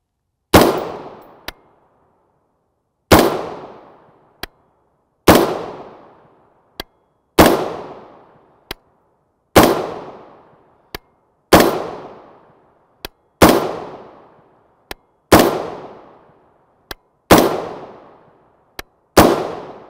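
Short-barrel 5.56 pistol firing 55gr FMJ M193 rounds outdoors in cold weather, nine sharp, loud shots spaced about two seconds apart, each with a quick echoing decay and a faint metallic clink after it.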